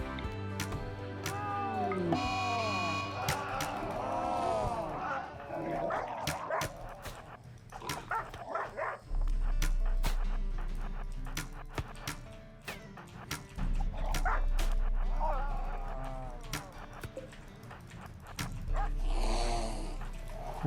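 Dog in the video game RimWorld barks and yips in scattered bursts during combat, mixed with other game noises and thumps, while someone talks over the action.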